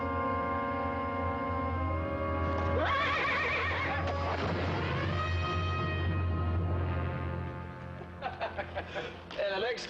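A horse from a rough string of mounts whinnies loudly and at length over a steady low hum, followed by a short run of clip-clopping hooves near the end.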